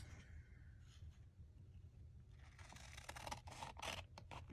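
Scissors cut through paper from an old book or magazine, starting as a faint scrape and building into a series of crisp snipping strokes toward the end, heard close and quietly.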